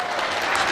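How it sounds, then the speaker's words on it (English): Audience applause breaks out at a community unity gala honoring an outreach director, a dense, steady wash of many hands clapping without pause through a brief burst. "Yes, she needs a round of applause."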